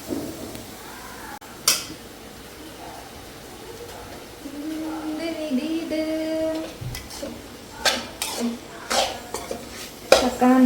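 A spoon scrapes and clinks against a cooking pan as food is mixed, with scattered sharp metallic knocks over a low kitchen background and faint sizzling.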